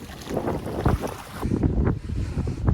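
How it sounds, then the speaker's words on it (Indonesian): Strong wind buffets a small fishing boat at sea near Makassar, a loud, steady roar and rumble of gusts hitting the microphone with no voices. "Kencang angin."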